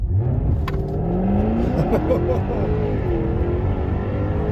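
A 2016 Jaguar F-Type R with a 550 hp supercharged V8 and all-wheel drive accelerating from 0 to 60: a loud, close engine roar whose pitch climbs steadily through the run, heard alone without speech.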